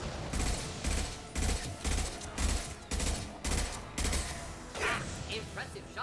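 A rapid series of loud gunshots from Mass Effect 2, about ten heavy evenly spaced blasts in a quick rhythm, followed by a short mechanical rattle and fading reverberation.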